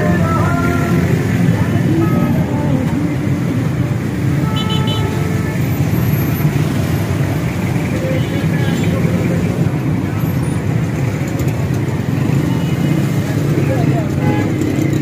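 Traffic jam on Kashmir Road in Sialkot, a loud constant roar of idling and moving engines with scattered short car horn toots, busy street noise throughout and voices talking over it.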